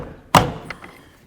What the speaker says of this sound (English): I'm going to come across the intake and the fuel rail and just try to pry it up